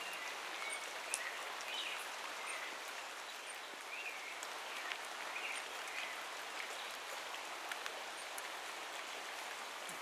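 Rain falls steadily in a rainforest, a dense even patter of drops on leaves and surfaces with occasional faint bird chirps and no talking.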